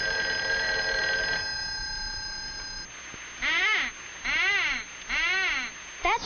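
A telephone rings in steady, bright electronic tones for about three seconds, followed by three loud swooping, warbling calls that sound like a voice playfully imitating a ringing phone.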